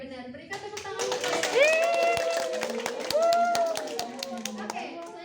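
Students in a classroom clap for a classmate's correct answer, a brief burst of scattered hand claps mixed with children's voices and a teacher talking throughout.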